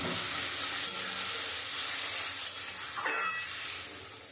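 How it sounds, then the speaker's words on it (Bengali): Water poured onto a sizzling spice paste for a tilapia curry with mustard and potatoes gives a loud, steady hiss close by that flares briefly and then eases off toward the end. "এবার আমি জল দিয়ে দেবো।"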